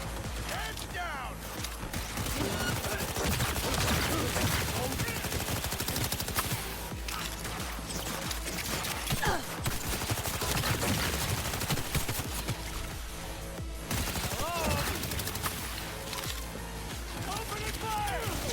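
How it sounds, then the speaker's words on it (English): Sustained gunfire in Cyberpunk 2077 during an assault on Arasaka, dense bursts of shots mixed with mechanical game sounds and music, with voices talking over the fighting throughout. "Opening fire!"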